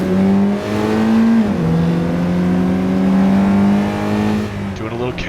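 2026 Honda Prelude cruising on a California highway, a steady engine drone with a sustained harmonic tone that shifts pitch briefly, rising near the end, with a voice talking over it.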